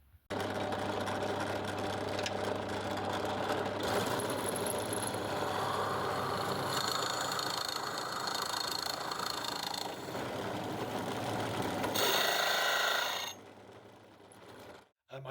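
Small electric motor running too fast makes a continuous loud whirring drone that holds steady for about thirteen seconds, then drops to a quieter hum before stopping.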